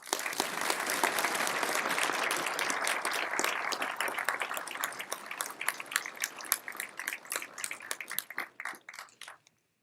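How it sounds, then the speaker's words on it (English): An audience at a university event applauds for several seconds, a dense wash of clapping from a large crowd that thins into scattered individual claps and stops. "Please give a round of applause"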